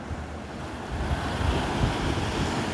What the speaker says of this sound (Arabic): البحر غبر وفي موج، ما انها بالكبيرة لكن موج